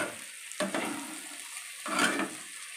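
Fish roe is poured in and sautéed with spices, okra and potato, two swelling bursts of sizzle and stirring over a quiet pan.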